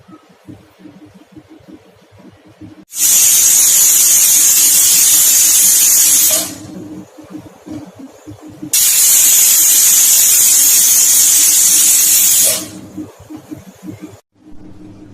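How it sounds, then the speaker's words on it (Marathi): A pressure cooker of lemon pieces for pickle, set on a medium gas flame, lets out two long, loud hissing steam whistles of about three to four seconds each, with quiet gaps between them. "आपल्याला आता इथे मीडियम गॅसवर 8-9 शिट्ट्या करून घ्यायच्या आहे"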